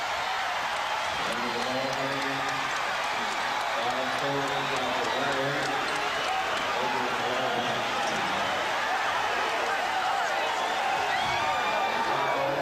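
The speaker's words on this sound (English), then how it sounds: "The Bulls greeted by a portion of this Forum crowd as they try to get back to their locker room" Forum arena crowd in Los Angeles at the close of the 1991 NBA Finals Game 5 as the Chicago Bulls win the championship, a steady roar of cheering and applause with announcer commentary over the top.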